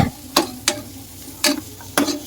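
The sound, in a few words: stirring chicken with masala in a pan for biryani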